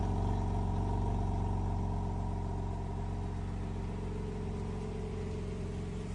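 A 2024 BMW M3 Competition xDrive with 19-inch wheels runs at a steady, even idle, its engine a constant low hum close by with no change in pitch and no voices.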